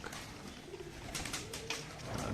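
Domestic pigeons kept in a loft built under a tin roof at a house coo softly in low, rolling calls, faint and close, with no one speaking.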